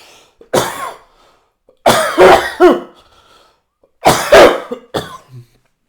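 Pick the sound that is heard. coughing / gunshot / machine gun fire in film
coughing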